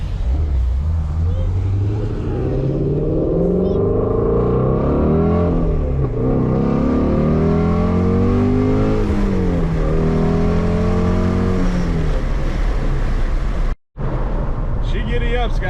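A 2019 Shelby GT350 Mustang accelerating hard, its loud engine note climbing through rising revs in a long pull, easing and then surging again before a sharp cutoff near the end.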